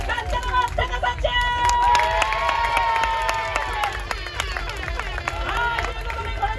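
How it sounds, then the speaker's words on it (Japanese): Audience at a seaside beach breakdance battle claps and cheers loudly to vote for a team, a dense sustained wave of applause with shouts and whoops throughout. "春彦さんチームが良かったと思う方、拍手。"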